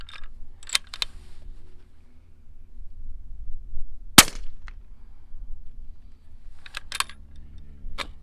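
A 300 Blackout rifle's bolt is worked by hand, giving a few sharp metallic clacks and one loud snap near the middle, with quieter rattles at the start and end and no talking.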